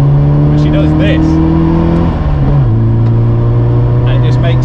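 A classic late-production Mini revs its engine up and then drops back, a loud, close, buzzy drone that climbs slightly, dips, and settles at a lower steady pitch.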